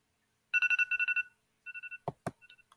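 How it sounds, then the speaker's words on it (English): A phone alarm ringtone plays from another room as a quick string of bright, evenly spaced tone bursts, pauses, then repeats more softly, followed by two sharp thumps. "I hear the faintest playing of her alarm ringtone from the other room, like this"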